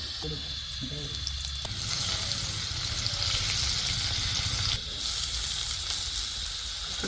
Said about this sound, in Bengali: বড়িগুলো লাল শাকের জন্য ভেজে নেবো বাদামগুলো ভেজে নেব